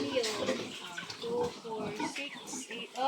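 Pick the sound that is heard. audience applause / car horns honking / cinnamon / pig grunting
pig grunting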